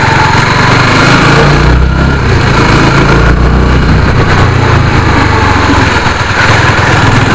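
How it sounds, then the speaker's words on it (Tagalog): A motorcycle engine idles close by, a loud, steady, buzzing drone with a slightly uneven rhythm that runs the whole clip without speech. "Ayan ang motor ni Alfred."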